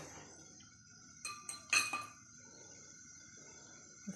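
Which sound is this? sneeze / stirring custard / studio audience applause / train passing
stirring custard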